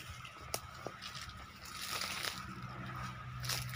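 Water running through newly started drip irrigation lines on an 80-foot farm bed without mulch, a soft continuous sloshing and trickling with a few small splashes, steady and close.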